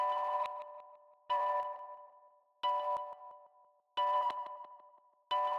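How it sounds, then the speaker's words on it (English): Chopped guitar harmonics ring out in bell-like bursts roughly every 1.3 seconds, each sharp-edged note decaying under an added echo before cutting off, with silence between the pieces and no voices. "This is just me playing harmonics on my guitar, and then I chop it up, and then I added some echo."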